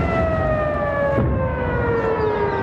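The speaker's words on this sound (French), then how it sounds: "À Tel Aviv, sirène d'alerte." An air raid alert siren wails over Tel Aviv, a loud sustained tone slowly gliding downward with layered harmonics, filling the whole stretch without a break.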